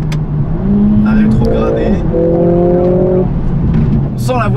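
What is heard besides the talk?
Mercedes A45 AMG S engine revving while downshifting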